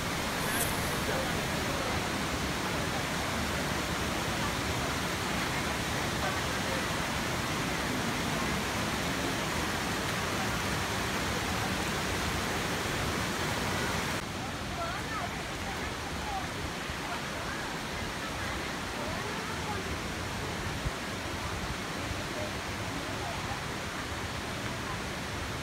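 Khlong Lan waterfall rushing with a loud, steady broadband roar of falling water that stays continuous throughout, slightly softening partway, with no clear voices over it.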